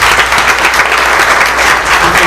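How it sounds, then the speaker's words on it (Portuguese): A congregation at an Assembly of God church service applauds loudly and continuously, a dense, close wash of many hands clapping together with no words spoken over it. "Vamos aplaudir o Senhor pela vida do pastor."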